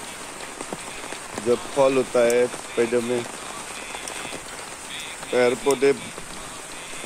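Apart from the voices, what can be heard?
rain falling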